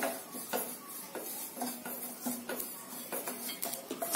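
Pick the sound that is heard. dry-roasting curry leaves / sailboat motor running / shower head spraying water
dry-roasting curry leaves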